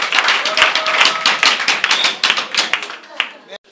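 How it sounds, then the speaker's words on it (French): Children clapping during a visit to an orphanage, loud close rhythmic hand claps in a quick steady pattern with a bright tonal voice sounding over them, stopping abruptly just before the end. "Pouvez-vous applaudir aussi notre visite?"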